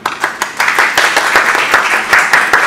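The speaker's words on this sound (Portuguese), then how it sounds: "Vamos inaugurar as palmas" Audience at a panel session on anthropologists in NGOs, companies and judicial expert work, clapping in a short burst of dense, even applause that holds steady throughout.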